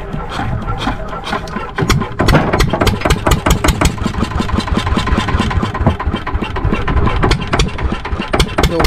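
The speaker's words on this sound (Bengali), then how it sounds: "তো হয়ে গেল আমাদের মেশিন স্টার্ট" A machine engine cranks into life and settles into a loud, close, rapid chugging idle, its pulses beating evenly throughout.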